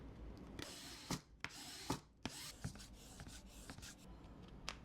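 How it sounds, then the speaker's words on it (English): Cover fabric is rubbed into place on a hardcover notebook with a bone folder, producing quiet, close-up scraping and swishing strokes in uneven bursts, with a few sharper taps between them. "rub it into place with your hand and then your bone folder"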